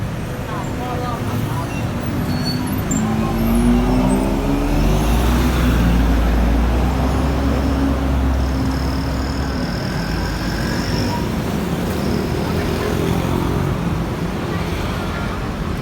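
Steady road traffic flows past in Luang Prabang, Laos around midday, with cars and motor vehicles making a loud continuous drone and low engine rumble throughout, and no break in the sound.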